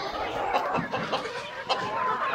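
Farm chickens cluck in a crowded coop, a jumble of short, close, overlapping clucks and calls with no break throughout.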